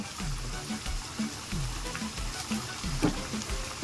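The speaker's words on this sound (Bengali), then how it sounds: "আমি এবার কোফতাগুলোকে গোল গোল করে তেলের মধ্যে ছেড়ে দেব।" Cabbage koftas fry in hot oil, giving a soft, steady sizzle with gentle bubbling and a few low thumps. The sound is faint and close, with no voices.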